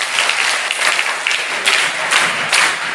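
Loud, steady applause from a school audience for teachers at a government school notebook distribution event, dense clapping sustained throughout with a few stronger surges.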